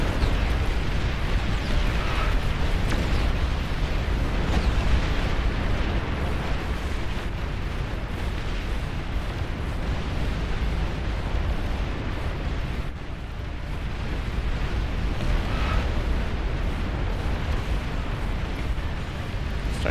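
Rocket explosions in the real-time strategy game Beyond All Reason boom continuously in a dense, rumbling barrage, loud and sustained, with overlapping blasts and no voices heard.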